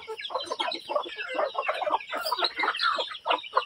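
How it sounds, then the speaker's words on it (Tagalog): Several farm chickens cluck and chatter continuously at close range outdoors on damp ground, with overlapping calls and no speech. "So, dami ng aming mga chicken."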